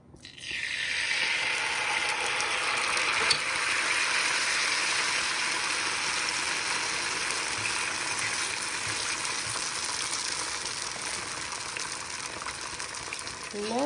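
Steady, loud sizzling and crackling of shrimp cakes frying in hot oil, continuous for the whole stretch with no talking over it.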